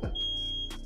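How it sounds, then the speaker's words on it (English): A smoke alarm lets out a single shrill, piercing electronic beep, loud and close, held for most of a second after a low thump. "Your alarm's going off, smoke alarm"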